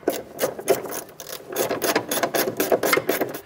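A ratchet runs in the control arm bolts on a 2008-2012 Honda Accord during an upper ball joint replacement, with rapid bursts of clicking repeated close up and no talking.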